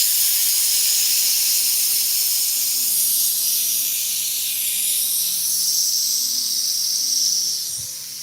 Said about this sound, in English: I gotta release the air from this compressor.